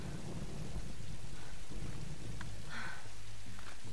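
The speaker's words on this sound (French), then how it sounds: "Puis à mon avis, l'orage t'aide pas" Steady rain hisses under a low, rolling rumble of thunder in a Tomb Raider game, with a brief brighter crackle midway; no voices.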